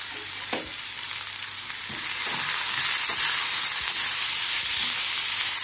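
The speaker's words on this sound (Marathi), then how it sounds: "छानपैकी तेल घातलं, 1-2 मिनिटं भाजून घ्यायचं।" Togarikalu masala roasting in oil in a pan, a soft hiss that swells louder after a couple of seconds when the heat is raised, with a few faint stirring scrapes and no talk.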